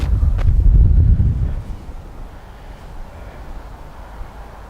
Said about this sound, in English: The wind is so strong.